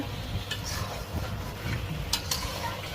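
Duck meat slowly sautéing in a covered-and-uncovered pan, a low continuous sizzle with a few light scraping stirs and occasional clinks, close and moderately quiet, with no talking.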